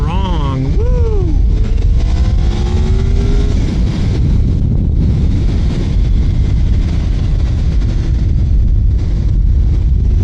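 A sport motorcycle engine climbs in pitch as VTEC engages, then settles into a loud sustained drone under heavy wind rush, ridden on a road.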